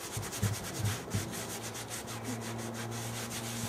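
Scrubbing rust off a metal water heater part, a faint steady rasping rub with rhythmic back-and-forth strokes, close up and without talk.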